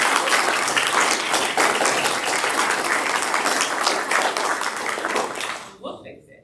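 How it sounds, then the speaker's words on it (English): A ceremony crowd breaks into loud, dense applause that holds steady for nearly six seconds, then drops off abruptly into near silence with a couple of stray claps. "Round of applause."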